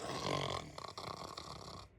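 A voice imitates loud snoring: one long rasping inhale followed by a rattling, buzzy exhale, close to the microphone.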